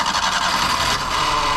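Small engine of a Japanese Daihatsu Hijet mini truck idling steadily after a carburetor refit, a continuous close mechanical hum and rattle with no talk.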